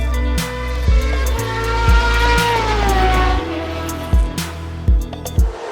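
A Porsche GT3 race car at Silverstone in a racing video game, its engine droning and revving steadily through gear changes, loud and continuous with sharp shifts and no talk.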